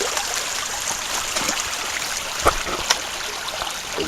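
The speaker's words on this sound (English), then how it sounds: "Clean running, fast water." Clean, fast-running stream water flowing over quartz and sandstone bedrock, a steady close rushing and gurgling with a few small splashes and no voices.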